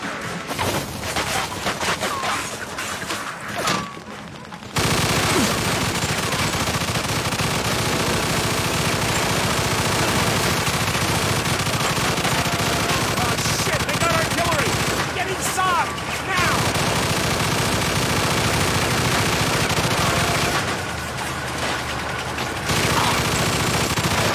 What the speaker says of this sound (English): Get on that machine gun.